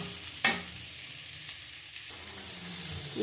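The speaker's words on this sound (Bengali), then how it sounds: "এবার ভালো করে কষিয়ে নেব, কষিয়ে নিয়ে হালকা জল দেবো।" Amudi fish curry frying in a pan, a soft continuous sizzle opened by a sharp clatter of stirring, fairly faint and close.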